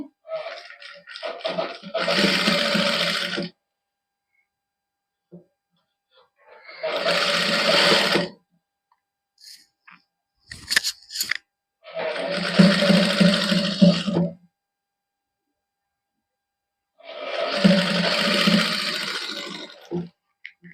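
A sewing machine stitches fine lace onto a printed cotton suit in four separate bursts of steady whirring, each a couple of seconds long and separated by silence and small handling clicks, with no talk.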